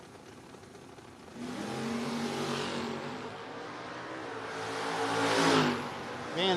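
A little Camaro roars down a drag strip at a No-Box 660 shootout, its engine rising through loud revving gear pulls and swelling to a peak near the end, heard from trackside without talk.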